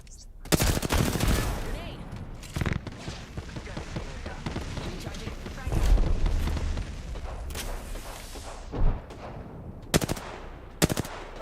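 Gunfire and blasts from an Apex Legends match around a frag grenade throw, with several loud sharp bursts and booms scattered across the clip over a busy background of game noise.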